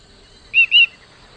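Two quick high chirps from Cheep Cheep, a small bird character in The Book of Unwritten Tales adventure game, heard close and alone against a quiet background.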